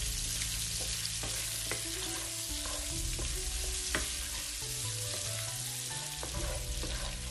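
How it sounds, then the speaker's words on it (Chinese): Pork fries in a wok with half a spoon of sugar added to caramelize, a dense continuous sizzle with a low hum beneath and scattered knocks of the spatula tossing the meat. "接下来呢，我们加半汤匙的糖进来，再把它炒至均匀，炒点糖色出来啊"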